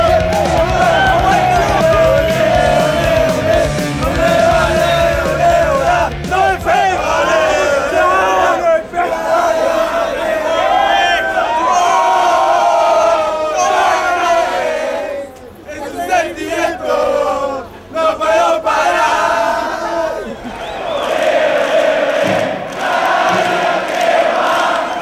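A packed crowd of around two hundred people at a NOFX punk show yells and cheers loudly and continuously, a dense roar of voices with shouts rising over it throughout.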